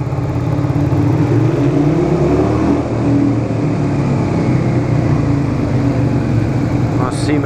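A motorcycle rolls slowly through a tunnel on slick cement, a steady low engine rumble echoing close and loud throughout with no clear surges.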